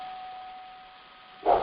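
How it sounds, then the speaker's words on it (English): Bells used in traditional Chinese medicine sound healing, struck once near the end as a single bright metallic clang, close and clear after a faint sustained ringing tone. "There's some bells from traditional Chinese medicine techniques."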